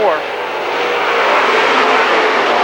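Late model race car at a dirt track speedway accelerating hard out of a corner, its engine roaring loud and steady, with an announcer talking over it throughout.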